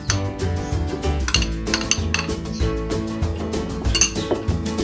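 Yogurt and batter being mixed in a bowl, heard as quick, repeated clinks and scrapes of a spoon against the dish. The rhythm is busy and close, with no voices.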